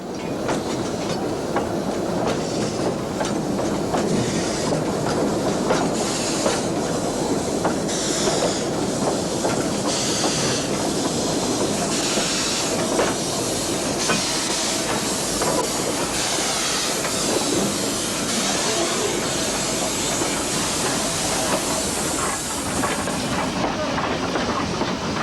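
Train of 6-wheel wooden coaches on a Portuguese narrow-gauge line, 1950s, rolling steadily and loudly with continuous rail rumble, clickety-clack and hiss throughout.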